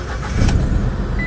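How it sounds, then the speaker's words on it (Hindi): A car engine turns over and idles steadily, a low continuous rumble with a brief higher whine near the start, close by and fairly loud, with no talking. "तो अब गाड़ी चालू करें"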